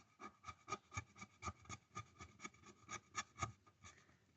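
A surface is scratched in about a dozen faint, evenly spaced rubbing strokes with short gaps between them, quiet and close.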